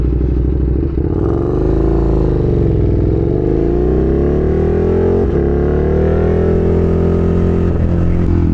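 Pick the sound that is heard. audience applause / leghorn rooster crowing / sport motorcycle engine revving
sport motorcycle engine revving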